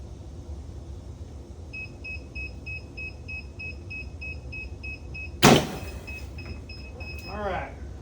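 Heat press popping open automatically after a 20-second pressing: a repeating electronic beep runs in the background, then a sudden loud mechanical pop and clunk, followed by a short whirring rattle.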